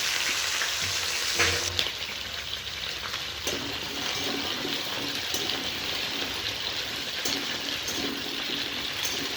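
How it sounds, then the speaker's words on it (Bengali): Small diced cauliflower and potato fry in hot oil in a pan, giving a steady, close, dense sizzle that crackles and hisses throughout with occasional stirring clatter, no voices. "কেটে রাখা ফুলকপি আর আলু তেলের মধ্যে দিয়ে দিলাম"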